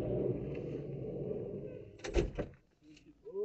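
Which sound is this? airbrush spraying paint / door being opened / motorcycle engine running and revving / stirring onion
door being opened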